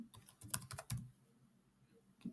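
Quick bursts of key clicks come from a computer keyboard, a soft close flurry of taps followed by a pause and one last click.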